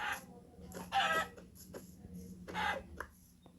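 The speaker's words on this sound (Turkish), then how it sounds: "Tavuk tavuk tavuk." Chicken clucking in a video game comes as short bursts of fowl calls separated by brief pauses, fairly close and moderately loud.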